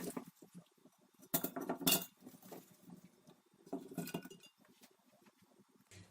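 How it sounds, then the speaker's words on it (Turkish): Mixed vegetables for pickling are packed into a glass jar, giving scattered clinks and knocks in a few quick bursts, close and fairly quiet. "Ve artık malzemeyi kavanoza yerleştiriyorum."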